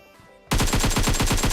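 Automatic gunfire in a battle royale video game, bursting in abruptly as a loud, rapid, sustained stream of evenly spaced shots.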